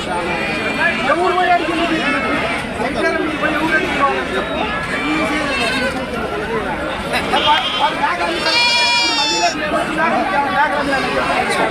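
Young male goats bleating amid the steady chatter of a crowded open-air goat market, the bleats rising now and then above the babble of voices and people talking throughout.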